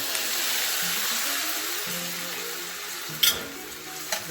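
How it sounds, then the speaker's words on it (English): Fresh pineapple from one ripe fruit sizzles steadily in a hot skillet, a close, even hiss with a couple of brief crackling pops near the end. "Listen to that sizzle."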